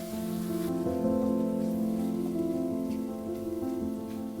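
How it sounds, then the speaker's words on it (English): Mushrooms sauté in a pan with salt and cracked pepper, a soft, even sizzle that hisses quietly and steadily throughout, with no talking. "Saute the mushrooms for another minute."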